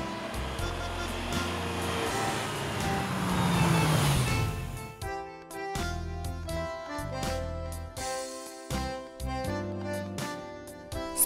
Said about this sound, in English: auto rickshaw.